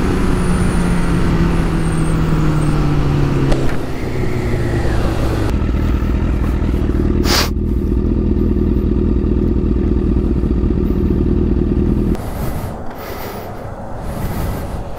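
Several motorcycles ride fast down a road, making a steady, loud engine drone that holds for about twelve seconds, then drops slightly in level and roughens toward the end.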